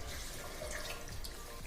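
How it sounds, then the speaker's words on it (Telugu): Water pours in a steady close stream into a pot of emu meat curry, a continuous splashing gush with no voices. "సో ఇప్పుడు ఇందులో మనం వాటర్ యాడ్ చేసుకుందాం"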